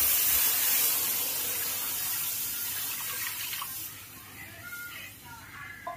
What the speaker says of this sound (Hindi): तो सबसे पहले हम डालेंगे पानी।